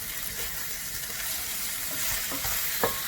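Cabbage stir fry vegetables frying in a pan for a vegan dish, a steady broadband sizzle with light stirring clatter and a few sharper utensil taps near the end, close and continuous with no talk.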